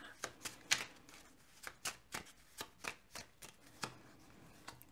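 Tarot cards being shuffled and drawn, a quiet series of crisp flicks and soft slaps in an irregular rhythm, close by and alone.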